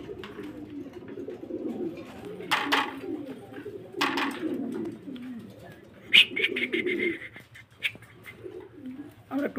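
A male Afsan grizzle pigeon coos in several low bursts at close range, with a few sharp rustles and clicks between them and someone talking briefly.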